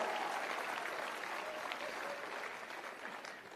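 A conference audience applauds steadily, a dense, continuous clapping from a large crowd that fades slightly toward the end.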